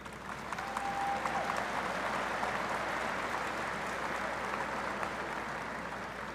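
At a college commencement ceremony, a large audience gives a long, even round of applause, broad and steady throughout without fading.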